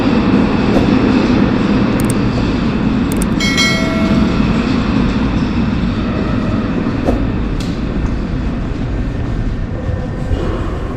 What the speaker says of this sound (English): I am boarding the metro in the east of the city